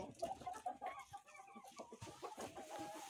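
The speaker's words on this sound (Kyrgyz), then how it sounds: "Булар вообще өзү негиз пайдалуу тооктор экен да" Several healthy laying hens cluck close by in a busy, overlapping chorus, with short clucks repeating steadily and no voices present.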